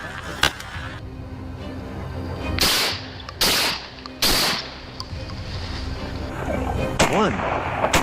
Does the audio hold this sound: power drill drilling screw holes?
no